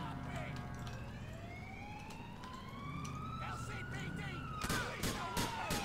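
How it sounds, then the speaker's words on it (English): Gunshots in the video game GTA IV: a few sharp cracks near the end, following rising and falling police sirens that wail through most of the scene, with some voice activity mixed in. "Shots fired, shots fired."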